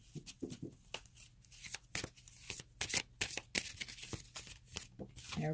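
Tarot cards being shuffled by hand, a quick run of crisp riffles and soft flicks, close and fairly quiet with no talking.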